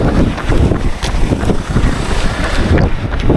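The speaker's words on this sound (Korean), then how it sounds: "지금 내려가는 길은 맞바람이라 가지고 어, 바람이 엄청나네요." Strong headwind buffeting the microphone of a runner heading downhill on a clear, sunny day, a loud, continuous rumbling roar with gusty swells throughout.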